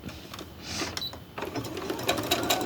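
A sewing machine joins octagon-shaped fabric pieces for a crumb-style crazy quilt, its motor whirring in short, uneven runs of stitching, close and moderately loud with no talking.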